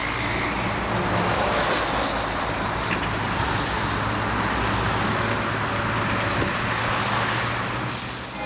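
Heavy traffic, much of it trucks, rumbles along the Pontebana state road between Treviso and Conegliano, a loud, dense, continuous roar of engines and tyres with no voices.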